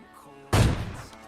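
A single loud AWM sniper rifle shot in PUBG Mobile Lite bursts out abruptly after a quiet game background, its boom decaying over the following half second.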